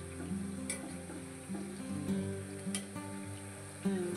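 Wheat flour puris deep-frying in hot oil, a steady close sizzle with soft bubbling pops running throughout, with no voices.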